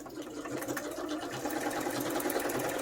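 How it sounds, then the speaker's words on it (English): A sewing machine runs continuously, stitching decorative tucks and pockets onto junk journal pages, a steady close mechanical whir with a rapid even needle rhythm and no talking. "I'm just going to add a little bit of stitching and do a top tuck."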